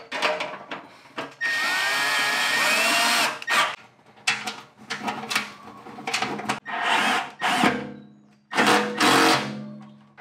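A power drill driving screws into a furnace blower housing, with repeated whirring bursts of varying length separated by short pauses, close and loud.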